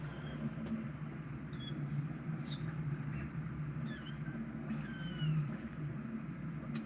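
Short, high-pitched meows and squeaks repeat intermittently over a low, steady background hum, fairly faint, with no clear speech.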